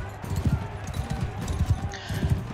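Horse hooves clip-clop rhythmically as a mount runs in the medieval combat game Mount and Blade II: Bannerlord, a steady thudding beat under a voice.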